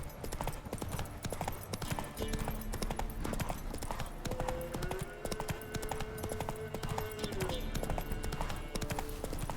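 Video game horse trotting, its hooves clip-clopping in a fast, even rhythm from start to finish over a low music bed, with a faint hint of voice.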